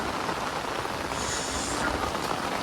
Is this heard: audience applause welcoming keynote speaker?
no